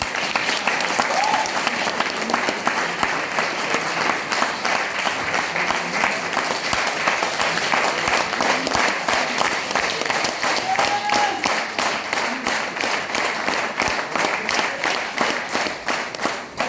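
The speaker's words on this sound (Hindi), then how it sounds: "तो एक बार गुरुदेव के लिए कैसी जोरदार ताली हो सकती है?" An audience in Bharatpur claps loudly for their guru at an RCM India gathering, a dense, steady applause that runs continuously at full strength before tapering slightly at the end.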